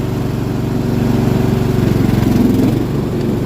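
A restored John Deere tractor mower's engine revs up close, a loud, steady pulsing drone that rises slightly in pitch, with no speech over it.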